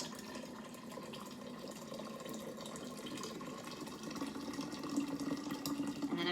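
Tea concentrate is poured from a pitcher into a gallon jar of sugar for kombucha, a soft continuous liquid stream and splash that grows fuller and louder near the end, heard alone at low level.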